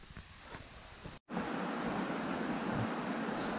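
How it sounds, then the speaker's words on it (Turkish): Broadband rushing water from a small waterfall and stream in a forest on a hike near Aschau and the Kampenwand, steady and fairly close, with brief faint handling noise and a momentary dropout. "Şöyle küçük bir şelale,"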